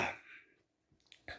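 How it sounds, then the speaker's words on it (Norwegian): A single short cough from a football commentator covering Eliteserien 2024, Tromsø versus Molde, loud at first and then trailing off, followed by quiet and a faint breath. "det bare host"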